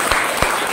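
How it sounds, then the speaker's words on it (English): A school classroom of students clap their hands together, a brief loud burst of close clapping with a few sharper hits standing out. "Clap your hand for us"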